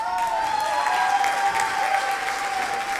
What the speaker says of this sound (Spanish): recibir con un gran aplauso a Sonia Laporta y Victoria Arrieschi